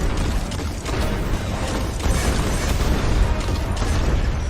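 In the video game Rise of Iron, continuous heavy explosions roar and rumble, a dense barrage of booms with crackling bursts layered throughout, loud and unbroken.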